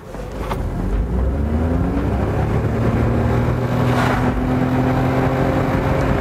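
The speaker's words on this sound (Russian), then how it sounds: "замер до сотни, это, наверное, самая важная часть нашего обзора. Спорт включен, поехали." A Nissan Serena e-Power in sport mode accelerating hard from a standstill toward 100 km/h, heard from inside as a rising motor whine that climbs steadily over a loud, constant road roar.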